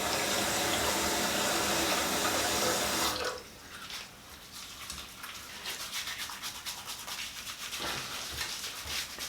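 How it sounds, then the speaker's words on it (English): A bathroom sink tap runs steadily and loudly for about three seconds, then gives way to softer splashing and rubbing as water is cupped onto the face, all without speech. "I'm just going to get my face wet first"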